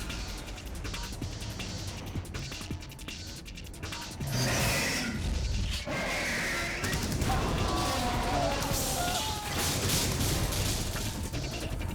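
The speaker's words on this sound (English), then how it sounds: "Explosion sound." Explosion in the Metal Gear Solid 2 video game: a chaotic burst of crashing, rumbling blasts and clattering debris that swells loudly after a few seconds and keeps churning, with gunfire-like rattles mixed in.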